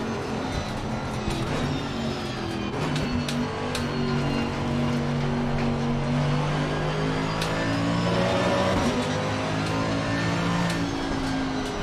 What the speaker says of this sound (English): it do be that naturally aspirated V8 still, right?